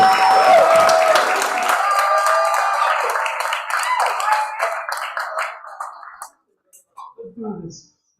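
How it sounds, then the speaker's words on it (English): At an open mic night at the Nuyorican, an audience claps steadily for a newly introduced poet. The thick clapping fades out after about six seconds, then a lone voice begins speaking. "Keep clapping"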